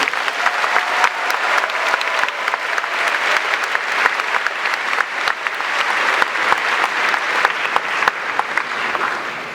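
An audience at a UC Irvine welcome week event applauds after the student body president's speech, with dense, sustained clapping at steady strength across the whole stretch.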